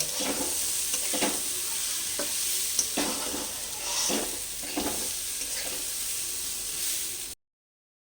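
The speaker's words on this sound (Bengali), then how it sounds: "এটাকে পাঁচ মিনিট মতন ভেজে নেব" Sweet pulao cooking in a pan for a Durga Puja recipe, a continuous loud sizzle of frying with repeated stirring scrapes at a steady rhythm, and no voices heard.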